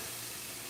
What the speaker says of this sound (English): You could hear the sizzle.